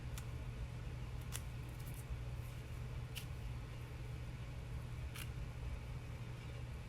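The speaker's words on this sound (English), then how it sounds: "Let's get our scissors going." Scissors give several quick, sharp snips while cutting fibers and thread, faint against a steady low hum.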